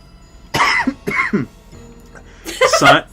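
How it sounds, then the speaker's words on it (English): A string of harsh, close coughs from the video game Yu-Gi-Oh! Forbidden Memories in two bursts, separated by a short gap, with a throaty rasp to them. "I guess the coughing was appropriate for Simon's line."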